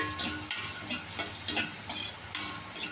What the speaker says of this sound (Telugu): వెల్లుల్లిపాయలు ఎక్కువ వేగించే అవసరం లేదు, కొంచెం వేగిస్తే సరిపోద్ది.